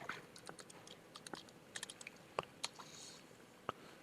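Sparse, quiet key clicks from a computer keyboard as a router login is typed in, scattered irregular taps with gaps between them and no talking.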